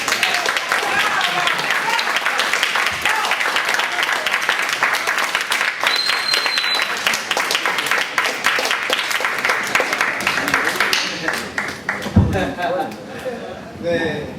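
A crowd gives a sustained round of applause with cheering for the city councilman of Trenton, New Jersey, loud and steady throughout, with voices shouting in the mix and a brief whistle.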